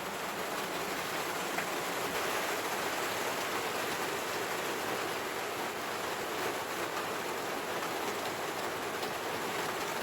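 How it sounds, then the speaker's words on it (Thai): Rain falls in a steady, even hiss that holds at a constant level throughout, with no voices over it. "ทุกคนได้ยินเสียงฝนตกไหมคะวันนี้ฝนตกค่ะ"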